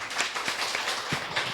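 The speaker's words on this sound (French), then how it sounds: "Maintenant que tout le monde a applaudi" Applause from an audience at an event, a steady wash of many hands clapping close by, continuous and fairly even for its short length with no voices over it.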